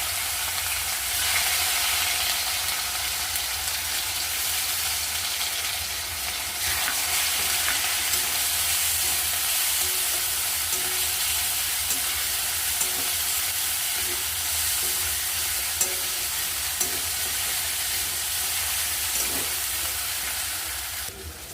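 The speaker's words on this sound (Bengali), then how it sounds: "আদা রসুন আর কাঁচা লঙ্কাটাকে একটু ভাজা ভাজা করে নিয়েছি।" Ginger, garlic and green chili frying in hot oil in a wok, a loud continuous close-up sizzle and hiss with faint occasional stirring clicks, no talk.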